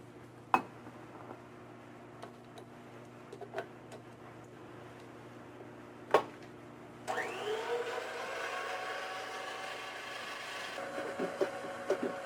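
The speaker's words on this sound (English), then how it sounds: "The 8 yolks are then beaten separately. With the other half of the sugar." An electric mixer beats eight egg yolks with sugar for a chocolate bourbon pecan cake. A few sharp kitchen clicks and taps come first, then a steady, fairly loud motor whir starts abruptly and runs continuously to the end with no talking.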